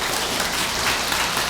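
Brief burst of dense crowd applause during a Buddhist dharma talk at a Korean temple, steady clapping from many hands throughout.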